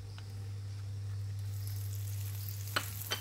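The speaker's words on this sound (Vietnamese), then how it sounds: "Dầu ăn nóng á, thì mình sẽ để miếng chả vô để mình chiên." Vegetarian mung bean patties fry in hot cooking oil in a pan, giving a steady close sizzle with a couple of brief sharper crackles near the end. No one speaks.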